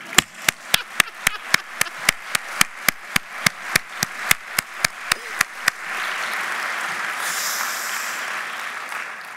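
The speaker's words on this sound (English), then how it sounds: "I think they deserve a round of applause again." At a national conference closing plenary, a single person's loud, evenly spaced claps ring out in a quick steady beat before giving way to a broad, sustained round of audience applause.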